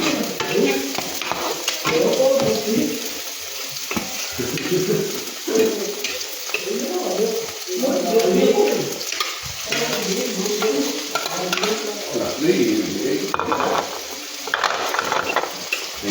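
Food sizzles and fries in a pan while a utensil stirs and scrapes in repeated bursts, steady and close throughout.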